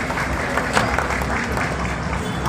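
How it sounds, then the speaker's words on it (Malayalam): A crowd at a shopping mall inauguration applauds loudly for a young child contestant, a dense, continuous clapping that fills the space. "ഉറക്കെ കൈയടി."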